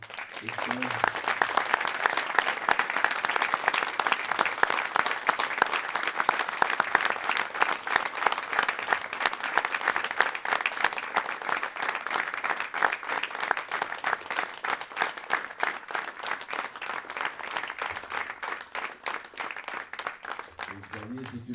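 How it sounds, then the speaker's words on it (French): Audience at a charity cheque ceremony claps loudly and steadily for over twenty seconds, a rapid, even patter that tapers slightly toward the end as a voice returns. "j'aimerais qu'on vous applaudisse fort et fort"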